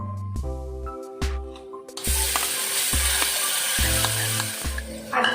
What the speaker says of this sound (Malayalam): ചൂടായതിനു ശേഷം ഈ അരപ്പ് ഇതിലേക്ക് കുക്കറിലേക്ക് ഒഴിച്ചു കൊടുക്കാം